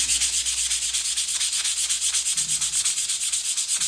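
Floor tiles being cut and ground by a power tool, a loud continuous abrasive rasp pulsing in a fast even rhythm, close and alone without any voices.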